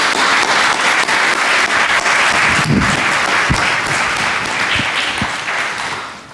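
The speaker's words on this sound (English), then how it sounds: "please join me in a warm round of applause" A warm round of applause from an audience at a media panel on the refugee crisis, dense steady clapping that fills the room at full volume before tapering slightly near the end.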